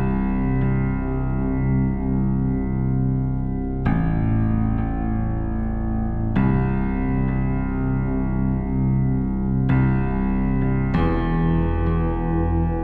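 A mellow, slightly warbly lo-fi keys synth bass preset, reverb and wow modulation off, plays sustained notes that change every few seconds, dry and warm with a soft lo-fi character.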